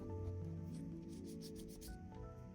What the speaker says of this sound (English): rubbing it out with your finger does give it a softer appearance.